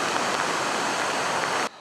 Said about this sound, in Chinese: 乌来瀑布水量惊人，由上而下冲刷向南势溪。